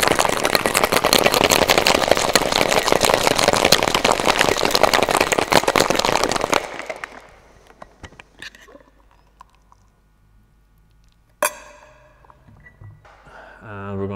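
Ice, one big cube and one small, shaken hard in a cocktail shaking tin for a Brown Derby: a loud, dense rattling of ice lasting about six seconds, then it stops, leaving quiet clinks and a brief voice.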